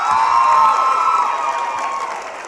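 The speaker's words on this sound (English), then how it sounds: "Come on, y'all clap it up for John on The Reflection Show" An audience claps and cheers for John at a high school show, a loud, dense burst of applause and shouting that is strongest at the start and then slowly fades.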